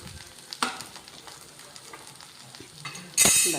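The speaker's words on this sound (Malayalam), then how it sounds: "അപ്പം നമ്മുടെ വഴുതനങ്ങ ഫ്രൈ ആയിക്കൊണ്ടിരിക്കുന്നു" Eggplant (brinjal) slices frying in a pan, a quiet steady sizzle with a sharper crackle near the start and a louder burst of spattering at the end.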